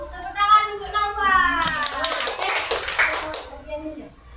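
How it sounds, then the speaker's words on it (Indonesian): After someone speaks in a classroom, a small group breaks into quick, scattered hand clapping for a couple of seconds, fairly close. "kita beri tepuk tangan untuk Nova."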